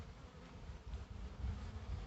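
A low, continuous buzz of honeybees around hives just raised onto cinder blocks, faint and steady throughout with no voices.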